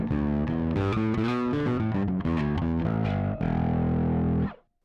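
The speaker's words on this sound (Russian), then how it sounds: "второй канал у нас здесь — это канал дисторшена" A bass guitar runs through the distortion channel of an MXR bass preamp, playing a loud, gritty riff of short overdriven notes followed by a sustained fuzzy note that cuts off abruptly.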